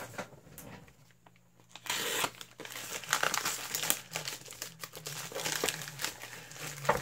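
Crinkling and tearing of packaging as a box of 500 trading cards is cut open with a Swiss Army knife, close and fairly loud, with bursts of rustle and scraping running continuously and no talk.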